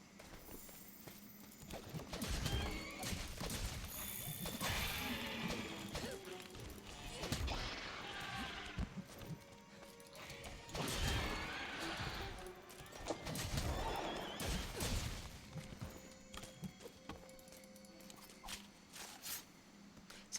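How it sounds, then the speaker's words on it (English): Monster cries with a stock horse whinny mixed in, from the Monster Hunter: World game: repeated loud neighing bursts and clip-clop thuds over busy game noise, with some voices underneath. "You could hear like the stock whinny sound effect in the middle of their sound file."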